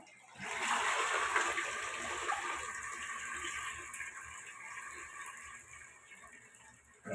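A toilet flushing after a drain repair in a home, water rushing loudly at first and then settling into a gurgling trickle, fairly close.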